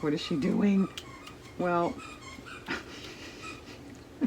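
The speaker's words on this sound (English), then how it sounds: "It's one of my dogs playing with one of their new Christmas toys." High, tonal squeaks from a dog's new squeaky Christmas toy sound in short bursts, with a dog whimpering nearby; a person speaks briefly over them.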